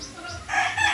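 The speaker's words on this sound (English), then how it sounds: "We got a lot of little, young, fighting chickens here." A rooster crows nearby, a loud drawn-out call rising in the second half, with softer clucking from young fighting chickens around it, in the Cebu mountains of the Philippines.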